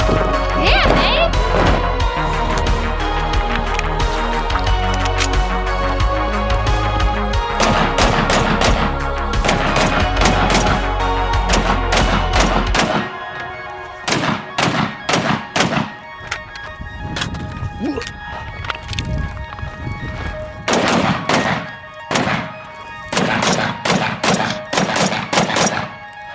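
SKS rifle fired at an outdoor shooting range, loud sharp shots, some in quick strings and some spaced apart, with a pause midway, over heavy wind and background noise.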